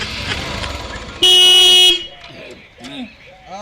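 A motorcycle horn gives one loud, sustained blast lasting under a second, standing out sharply over quieter background noise, with people talking before and after it.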